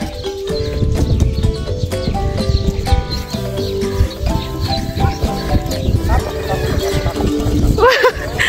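Steady clip-clop of horse hooves walking at an even pace through a village, close by, with voices and other activity mixed in throughout.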